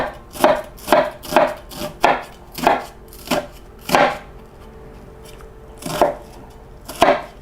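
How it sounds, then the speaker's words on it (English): A knife cuts through an onion on a board, a series of about a dozen crisp, close chopping thuds at a quick, slightly uneven rhythm with a short pause partway through. "now what I'm going to do is I'm going to cut the onion in half."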